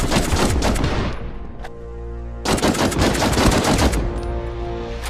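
Sustained rapid carbine fire in a first-person shooter video game, loud dense bursts with a brief pause before the automatic shooting resumes.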